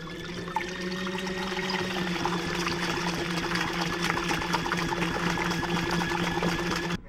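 A makeshift washing machine spins two shirts in a shallow load of water, giving a steady close whirring motor hum with churning, sloshing water running continuously.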